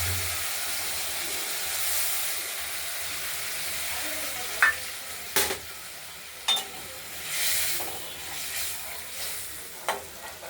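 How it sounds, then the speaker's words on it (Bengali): Poppy seed paste and green chilli fry with pieces of catla fish in a pan, a steady close sizzle with occasional scraping stirs and soft clacks of a spatula. "পোস্ত আর কাঁচা লঙ্কা ভাজা"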